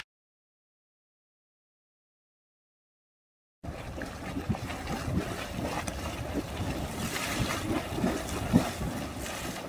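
After several seconds of silence, a steady rushing, gurgling noise of water spewing from a Yellowstone hot spring starts up and continues, with wind buffeting the microphone.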